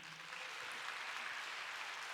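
An audience applauds at a youth symphony orchestra's narrated concert, a steady, even patter of many hands clapping from a distance, sustained throughout with no speech.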